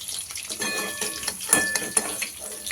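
Metal utensils clink and scrape against a pan as fried eggs are lifted out into a separate dish, with a few sharp clatters over faint kitchen background.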